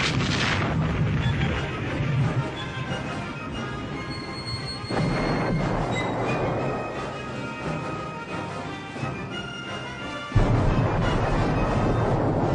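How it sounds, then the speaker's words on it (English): An artillery barrage bombarding the Normandy fortifications on D-Day 1944 rumbles as repeated heavy booms, some distant and some sharp and close, with a continuous roar between the blasts. "a tremendous barrage strikes Hitler's fortifications at Normandy"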